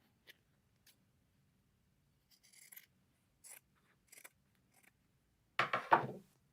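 Scissors snip through packaging while a self-threading serger is unboxed, giving a few faint, scattered cuts and rustles and then one louder, closer crunching cut near the end.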